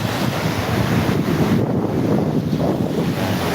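Sea surf and wind at a beach resort in Real, Quezon, a continuous loud rush of breaking waves with heavy wind buffeting the microphone, steady throughout the short stretch.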